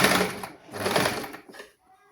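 A sewing machine stitches a band in a basic tailoring class, two short close whirring runs separated by a brief pause and then stopping, with faint speech at the end.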